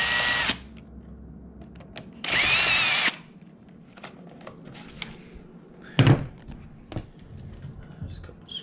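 A power drill whirs in short bursts while removing screws from the steering wheel trim of a 2012-2016 Honda CR-V, with three main runs separated by clicks and handling noises.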